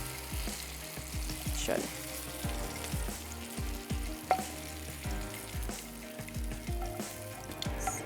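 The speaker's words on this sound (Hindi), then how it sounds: "सेम इसी प्रोसेस के साथ हमने तमाम बैंगनों को फ्राई कर लेना है।" Eggplant slices frying in a pan, a dense steady sizzle with repeated low clunks and scrapes as the slices are moved and turned; one short spoken word near the start.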